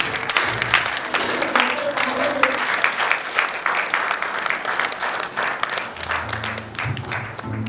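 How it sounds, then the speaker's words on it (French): An audience applauds a film director at a ciné-club short film screening, a dense sustained wash of clapping from a nearby crowd that runs steadily throughout, with a few voices murmuring underneath. "Applaudissez pour Rostan Wanja, le réalisateur."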